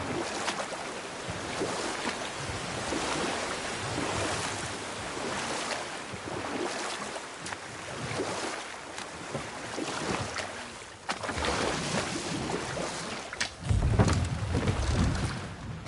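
A huge waterfall in the video game God of War roars as a broad, steady rush of water. It is continuous and loud, swells slightly near the end, and no one talks over it.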